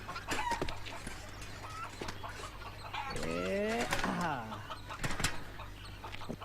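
Chickens cluck and squawk in a busy, close barnyard chorus, with one drawn-out call rising over the steady hum.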